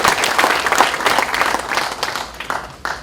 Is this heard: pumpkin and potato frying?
no